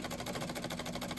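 Sewing machine stitching the folded edge of an organza dupatta, a faint, fast, even whirring with regular pulses running continuously.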